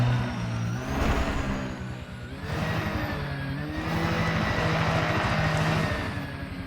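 Spaceship engine throttled up to full power in Elite Dangerous, a steady loud droning roar with a throbbing low pulse and rising whine that holds continuously for several seconds, no voices over it.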